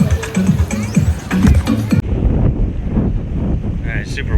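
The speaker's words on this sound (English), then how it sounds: "super windy" Strong wind on a Curaçao beach buffets the microphone with loud, roaring gusts. A voice talks over the first half, then the wind roars on alone.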